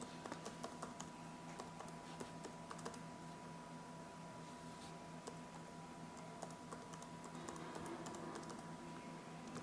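Keys clatter on a computer keyboard as an Aadhaar number is entered, a quick irregular stream of soft clicks over a steady electrical hum, close and fairly quiet.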